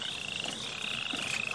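A green frog croaks in steady rain, a close, continuous rasping call running under the patter of falling water without any voices.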